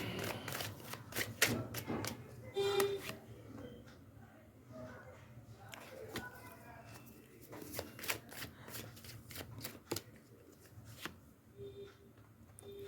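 Playing cards handled and counted into piles, giving close irregular flicks, snaps and soft slaps throughout, with a person talking softly over them.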